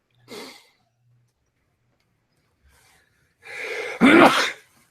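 A short breathy intake, a pause, then a loud close sneeze building to a sharp burst, with no talking.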